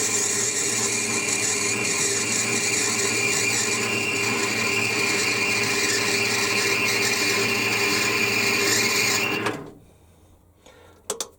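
A metal lathe turning at 140 RPM, running in reverse, gives a steady, loud mechanical whine and hum with tonal bands. It runs unchanged for about nine seconds, then cuts off into near silence, with a couple of faint clicks at the end.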